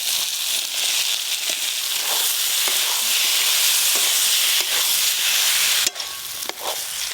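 Soaked soybean chunks sauté with spices in a pan for khichuri, a loud, steady sizzle with scraping stirs and occasional sharp crackles throughout, heard close with no talk.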